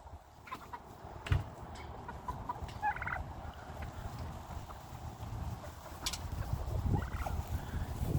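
Farmyard chickens clucking and squawking nearby amid a busy flock, with occasional sharper calls over a rumbling outdoor background and a few thumps.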